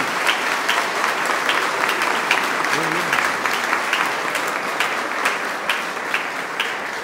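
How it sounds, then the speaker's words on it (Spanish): A congregation at Sunday Mass applauds children who are receiving Bibles as they begin catechesis. The steady, crowded clapping echoes through the church for the full stretch, and a voice briefly cuts through at one point. "Vamos a darle un aplauso a estos niños"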